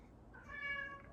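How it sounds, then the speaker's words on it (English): A pet cat lets out a single short, rising meow indoors at night, faint and somewhat distant against a quiet room. "my cat is meowing."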